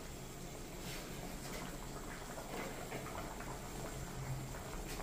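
Water bubbles and simmers steadily in a cooking pot of chicken in blood stew, a soft continuous boiling patter with no voices.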